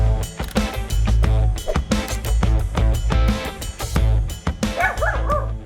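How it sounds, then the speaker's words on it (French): A dog barks repeatedly in close, loud bursts, sharp woofs and yips coming in an uneven rhythm with short pauses between them, alone with no talk. "c'est un chien qui aboie toute la journée"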